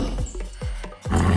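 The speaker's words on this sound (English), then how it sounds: "Lions," A lion roaring in a series of deep, rough grunting calls, close and loud, repeating every few tenths of a second with no talk over it.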